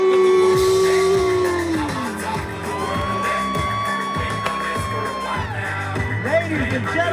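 A 2022 STEM graduating class at a senior walk yells and cheers together after a countdown, loud crowd whoops and shouts rising and falling, with a few voices talking over the din.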